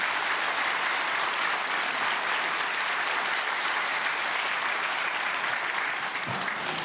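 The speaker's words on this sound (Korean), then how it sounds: "멀리 오신 우리 장동민 목사님 박수로 환영하시겠습니다" A church congregation at a Korean prayer meeting for peaceful reunification applauds to welcome a visiting pastor, steady, full clapping from many hands that fills the room for the whole stretch.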